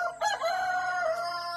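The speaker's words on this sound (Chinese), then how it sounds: "这只小公鸡，它的鸡冠像一颗黑桑葚" A young rooster with a dark, mulberry-like comb gives a short, slightly strained crow with a brief cluck at the start, close and clear with no one talking.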